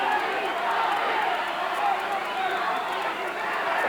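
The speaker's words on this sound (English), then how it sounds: "Crowd here urging Tony Thornton on." At a boxing match, a crowd roars on fighter Tony Thornton in a steady, dense wall of cheering and shouting heard from inside the arena, with a commentator talking over it.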